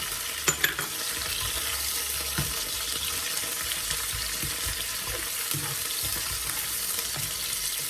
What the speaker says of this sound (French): Et on fait revenir et dorer l'oignon.